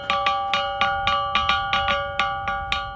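An ancient Nubian rock gong, a stone instrument from around 5,000 BC that has been worn smooth, is struck in a quick, steady rhythm. Each strike gives a bright, ringing, bell-like tone, close and clear, with no voices.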